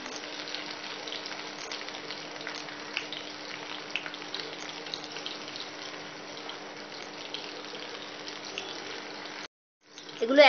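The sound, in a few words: muchmuche being fried in a pan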